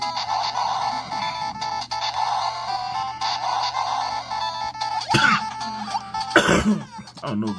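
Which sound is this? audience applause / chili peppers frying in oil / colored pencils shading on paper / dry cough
dry cough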